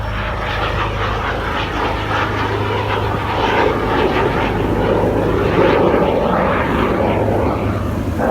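A Hunting Percival Jet Provost jet trainer passes at an airshow, a continuous loud engine roar and rush that holds steady and swells slightly mid-way, with no voices.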